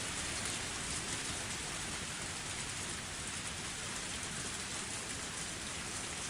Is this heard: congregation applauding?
no